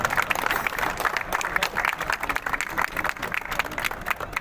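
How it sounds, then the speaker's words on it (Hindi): A crowd at a bar association election gathering at Saket Court claps loudly and steadily to welcome a speaker, a dense continuous ovation holding throughout. "मनन सर का बहुत जोर की तालियों के साथ इस्तकबाल किया जाए"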